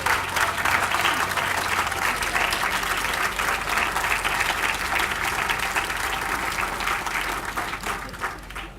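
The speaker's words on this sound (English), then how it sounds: "stand up and give yourselves a rounding applause" A crowd applauding at a Black History Museum groundbreaking ceremony, dense, steady clapping sustained throughout and tapering slightly toward the end.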